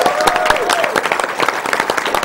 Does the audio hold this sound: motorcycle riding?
no